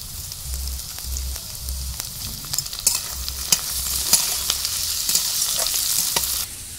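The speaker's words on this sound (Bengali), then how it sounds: "মশলাগুলো ভাজা হয়ে গেছে" Spices sizzle and fry in ghee together with chopped capsicum and ripe tomato, a steady close hiss broken by a series of sharp spatters and stirring scrapes, with no talking.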